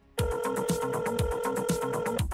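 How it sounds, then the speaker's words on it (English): Telephone ringing through a call line, a steady electronic ring tone holding for about two seconds, clear and alone with no talk over it. "It's ringing."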